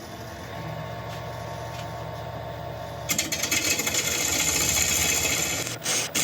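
A woodturning tool is sharpened with a coarse, grinding rasp that starts abruptly partway through and stays loud and steady over a continuous hum.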